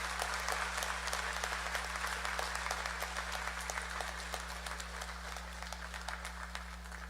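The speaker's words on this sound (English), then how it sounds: "Can we give her a tremendous round of applause" Convocation audience at a University of Guyana graduation ceremony applauding, a sustained wash of many hands clapping in a large hall, steady and fairly soft over a low electrical hum.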